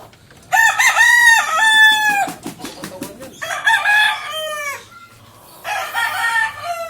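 A white kelso fighting rooster crows loudly and close, three long cock-a-doodle-doo calls in sequence, with a short gap of rustling and faint clucks between the first and second crows.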